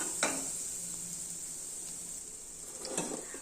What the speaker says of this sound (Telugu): సో ఇప్పుడు దీంట్లో మనం రైస్ వేసేసుకొని కలిపేసుకుందాము.